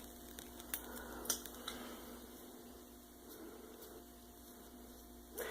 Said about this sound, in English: Just use some like little cosmetic scissors.